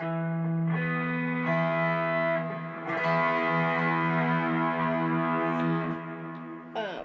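An electric guitar chord rings out heavily processed with distortion and chorus, sustaining for several seconds, then restruck and left to fade.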